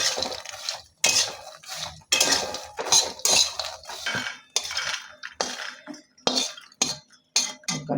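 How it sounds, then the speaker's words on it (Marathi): Makhana (fox nuts) are stirred and roasted in ghee in a pan, with rapid clattering and scraping of a spoon against metal in choppy bursts, close and fairly loud. "आता मकाना भाजून घ्यायचं, हे तुपात थोडंसं तूप राहिलं ना, त्या तुपामध्ये"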